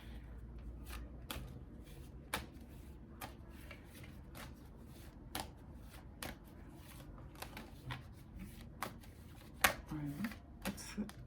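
Cards being shuffled for a tarot-style reading, heard as crisp, close flicks and riffles at an uneven pace, with brief softer pauses between bursts and no clear talking.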